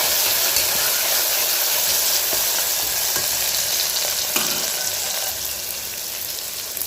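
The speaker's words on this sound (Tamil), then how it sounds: "தக்காளியை சேர்த்து இதையும் சேர்த்து நல்லா வதக்கி வச்சுக்கணும்." Tomatoes sautéing in a hot pan for beef biryani, a steady loud sizzle and hiss with occasional stirring scrapes throughout, no talking.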